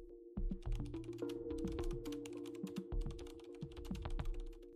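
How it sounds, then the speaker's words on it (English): Fingers type on a computer keyboard in a rapid, steady stream of close clicking keystrokes over a low electrical hum, with no talk. "all you need to do is type in the subject."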